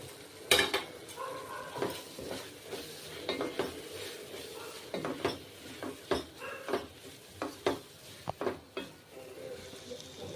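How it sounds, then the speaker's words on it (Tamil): Masala spices for biryani (chilli powder, coriander powder, biryani masala) sautéed in a pan, heard as repeated clinks and scrapes of a spoon against metal with a faint sizzle underneath, no talking. "இப்போ மசாலா போட்டு வதக்கியாச்சு."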